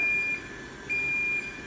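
A high-level PPE powered respirator's airflow alarm gives two steady electronic beeps, one short and one longer, close and clear over a constant fan hum.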